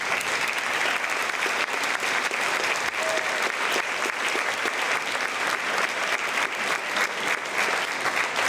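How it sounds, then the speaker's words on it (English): Steady, dense applause from an audience honoring high-achieving high school seniors at an academic awards event, sustained and even throughout without pause. "give them a round of applause"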